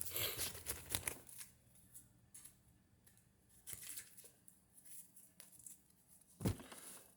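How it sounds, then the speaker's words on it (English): Tarot cards are shuffled by hand, quiet riffling and flicking bursts with papery slaps, a quick flurry at the start and scattered shuffles after, close and soft, no talk. "let's get two more shuffles"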